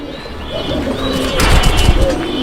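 A male and female pigeon pair kept in Mirpur, Dhaka, coo softly and repeatedly up close, with light chirps and a rustling burst midway over a steady background hiss.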